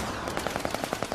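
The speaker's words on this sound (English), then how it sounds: "This is a 25mm chain gun," A ship-mounted 25mm chain gun for firing warning shots or high-explosive rounds at vessels: a quick, evenly spaced burst of about nine distant-sounding shots over a steady background roar.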